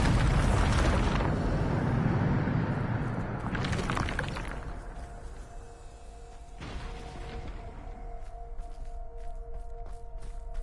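Spell explosion from the Bombarda blasting curse in Hogwarts Legacy: a loud opening burst, a second sharp blast around four seconds, then a third impact with lingering tonal rumble and scattered crackles.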